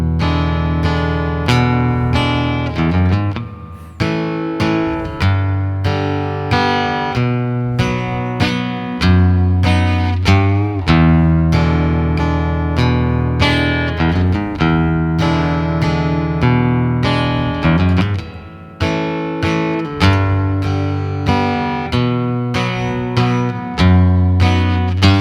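Guitar in standard tuning plays a song in a waltz-like 3/4 feel, strummed chords and bass notes ringing steadily, loud and close with no voices.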